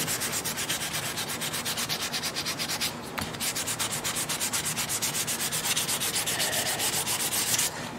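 Hand sanding on a custom quilted mandolin under construction, steady rhythmic back-and-forth strokes of sandpaper on wood, close and continuous with a brief pause near the three-second mark.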